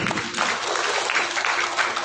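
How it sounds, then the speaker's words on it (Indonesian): A church congregation at a wedding service in a Bekasi hall claps together in sustained, dense applause that carries evenly throughout, with no talk over it. "Berkasih tepuk tangan buat Tuhan."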